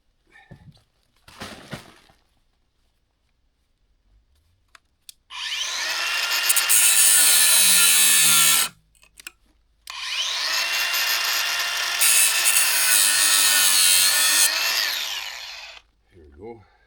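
Power saw cutting off a stripped screw during retaining wall work by a firepit and outdoor sauna area, two loud sustained grinding runs of several seconds each with a brief pause between, preceded by faint handling knocks.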